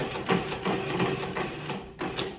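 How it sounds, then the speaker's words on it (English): A food processor pulses ingredients for a shrimp dip made with cooked salad shrimp, giving a run of short, loud whirring bursts in quick rhythmic succession with brief gaps between them, close and clear with no talking. "since I'm using the food processor, I am going to pulse this and get it pretty small"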